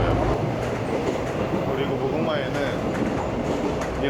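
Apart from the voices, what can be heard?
Mugunghwa train running noise, old and loud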